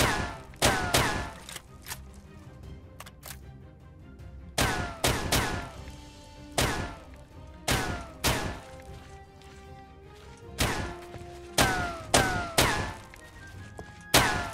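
Gunfire in a Minecraft zombie apocalypse game, loud repeated bursts of sharp shots in rapid clusters with brief gaps between volleys, close and dominant throughout.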